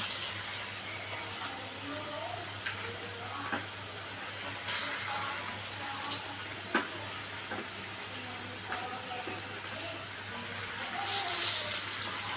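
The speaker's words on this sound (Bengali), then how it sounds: "এরকমভাবে আমি সবকটা পকোড়া চাউমিনের পকোড়াগুলো ভেজে নেব।" Chowmein pakoras frying in hot oil, a steady, even sizzle that holds throughout, with a few faint clicks and a brief brighter hiss near the end.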